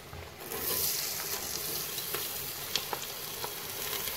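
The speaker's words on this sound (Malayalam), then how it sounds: "നമുക്കിതിലേക്ക് സവാള വരയ്ക്കാനായിട്ടിടാം." Sliced onions sizzling steadily in hot oil with curry leaves, ginger and green chilli for a samosa filling, a continuous close frying hiss with a few light scrapes and stirs, no voices.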